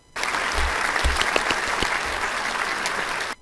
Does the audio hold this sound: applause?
yes